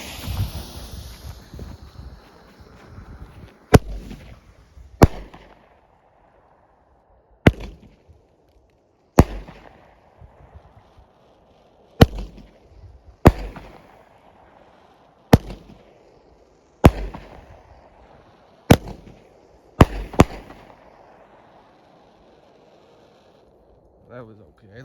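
A 9-shot Uproar consumer firework cake fires at night outdoors: nine sharp, loud bursts at roughly even intervals of one to two seconds, each followed by a short crackling tail, with faint wind noise between the shots.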